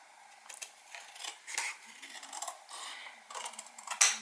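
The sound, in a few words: scissors cutting paper for a scrapbook tag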